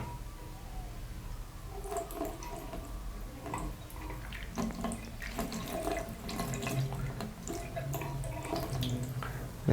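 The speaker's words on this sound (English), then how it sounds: "open the tap" Tap water pours steadily into a wash basin, a continuous close splashing rush with small gurgles and drips, no voices.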